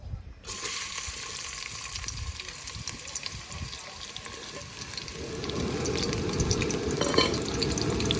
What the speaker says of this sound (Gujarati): તેલ ગરમ થઈ ગયું છે હવે આપણે નાખશું ડુંગળી